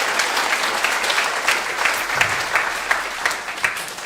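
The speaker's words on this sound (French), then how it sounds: "on peut acclamer le Seigneur" A church congregation applauds the Lord with steady, dense clapping from a sizable crowd, sustained throughout.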